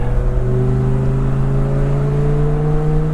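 A Lamborghini Gallardo pulling under acceleration on a quiet neighborhood road, a loud, close engine note rising steadily in pitch with a smooth whirring drone, no talking.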